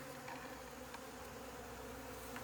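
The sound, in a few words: honeybees swarming on sugar feed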